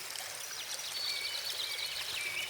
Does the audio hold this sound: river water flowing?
yes